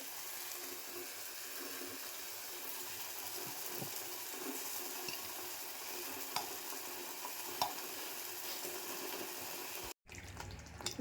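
A thick Konkan-style raw-mango fish curry with sounda fish simmers and sizzles steadily in a pan, with faint scraping and stirring clicks, before a brief cut near the end.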